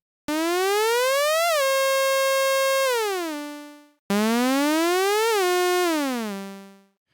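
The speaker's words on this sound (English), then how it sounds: "this ADSR controlling pitch" A modular synthesizer voice, patched in BEAP with an ADSR envelope driving pitch, plays two loud sustained notes that glide upward, hold steady, then drop to a lower pitch and fade, with no talking over them.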